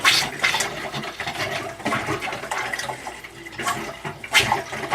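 A kitchen tap spits and sputters as trapped air is purged from a small pump-fed water system, giving close, irregular gurgling bursts of water and air with uneven surges.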